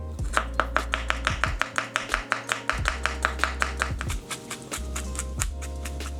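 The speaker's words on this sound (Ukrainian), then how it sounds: "І першочергово давайте це все наріжемо." A knife chops garlic, onion and tomato on a board in a kitchen in Hurghada, Egypt, with quick, evenly spaced close taps in a steady run of about two dozen strokes and no speech.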